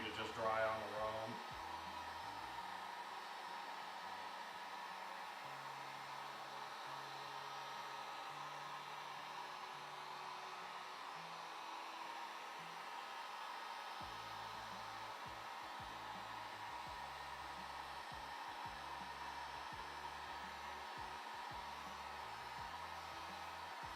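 Steady blowing hum of a dryer aimed at the flat back side of a freshly finished Shaker-style cabinet door, constant and moderately loud throughout with faint low knocks underneath.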